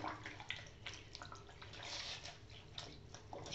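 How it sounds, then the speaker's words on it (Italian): A cloth being soaked in hot water for a hot-towel shave, with splashing, dripping and sloshing water close by and continuous throughout, no talking. "Ok, lo imbeviamo nell'acqua calda in questa maniera."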